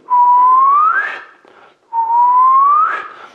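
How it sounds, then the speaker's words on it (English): Two long whistled tones from a flute teacher's exercise, each starting steady and bending upward at the end, loud and close with a short breath gap between them and no talk. "So if you take any note and whistle"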